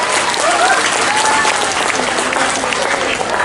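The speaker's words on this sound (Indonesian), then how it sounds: "Saya ingin tepuk tangan dulu untuk kita semua." Loud, sustained applause from an audience at a vocational high school event in Banjarmasin, steady clapping filling the whole stretch with no speech over it.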